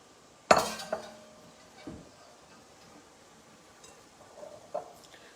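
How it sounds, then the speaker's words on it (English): Boiled noodles lifted from a pot with a slotted spoon: a sharp metallic clink against the pot rim, then a few softer taps and scrapes spaced out, close and moderately loud, no voices. "It's slotted, so it's easy to stir and it's also easy to fish my pasta out."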